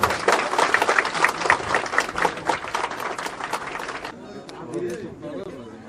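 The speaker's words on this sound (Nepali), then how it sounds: "हामी जोडदार ताली बजाउनेछौँ।" A crowd at a ward-level rally meeting in a tea garden market breaks into dense, loud applause that lasts about four seconds, then stops abruptly and leaves quieter murmuring voices.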